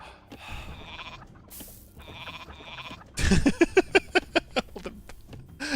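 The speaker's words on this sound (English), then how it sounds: "All the sheep." Sheep in the Age of Mythology video game bleat in a rapid run of short, sharp, repeated calls, clear and close after a brief pause.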